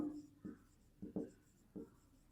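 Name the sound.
writing on paper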